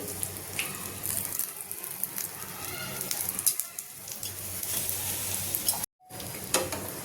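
Dudhi rava snack frying in a pan, a steady crackling sizzle with occasional scraping stirs and splashy bursts, close and moderately loud, cut by a brief silent gap near the end.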